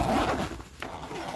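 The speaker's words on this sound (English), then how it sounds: "there's like a couple of zippers here" A zipper is drawn along a portable carry cover for a 16-inch Ooni Koda pizza oven, giving a short raspy zip, then a brief pause and a second quick tug, close and fairly quiet.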